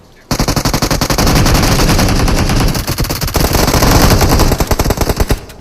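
Loud, sustained automatic gunfire from the mobile battle royale game BGMI: rapid bursts of shots that run almost nonstop for about five seconds, then break into choppier volleys at the end.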